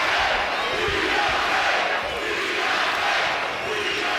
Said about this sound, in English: Crowd getting behind Deontay Wilder.